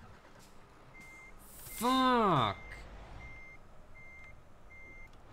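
Faint, evenly spaced reversing beeps from a truck in Euro Truck Simulator 2, pulsing steadily in the background after a loud shout cuts in.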